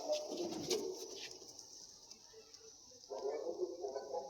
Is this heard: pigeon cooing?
yes